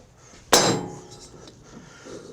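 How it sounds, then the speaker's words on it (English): A single sharp metallic knock from a mallet striking a pulley to loosen it on a John Deere D120 mower shaft rings briefly, then fades into quiet shop background. "Let me get a hammer here. Mallet."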